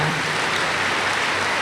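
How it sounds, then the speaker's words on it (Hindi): Audience clapping in a meditation class hall, a dense, steady patter of applause heard close and continuous for a moment with no speech. "सबका भाग्य में हो, तभी ताली बजाओ।"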